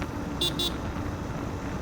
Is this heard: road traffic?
yes